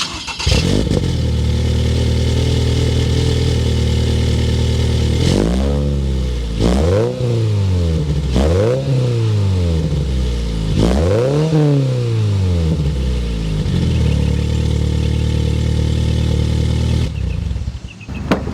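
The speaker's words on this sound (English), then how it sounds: "We need to go inside, start it up, so you can hear that exhaust note." A 2023 Toyota GR86 10th Anniversary edition with a catback exhaust starts up and settles into a deep idle, then revs sharply several times in quick rising-and-falling bursts before returning to a steady close idle.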